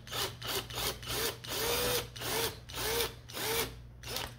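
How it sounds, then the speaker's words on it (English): A power drill pre-drills a hole in wood while a custom toilet throne is being built, with the motor whirring in pulsing bursts as the bit bites in, close and clear with no talk. "And we're just gonna pre-drill."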